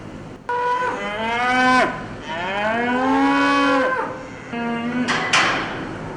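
Hanwoo bulls in a cattle barn give three long, loud moos one after another, each a drawn-out bellow with rising and falling pitch, close to the listener and with brief pauses between calls.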